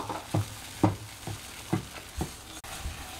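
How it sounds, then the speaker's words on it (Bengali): A spice paste with cashews is stirred in a wok over a low flame for a Bengali-style paneer dish, with five distinct scraping stirs at a slow, uneven rhythm over a faint, quiet sizzle. "গ্যাসটা একটু লো ফ্লেমে দিয়ে আমাকে মশলাটা কষে নিতে হবে।"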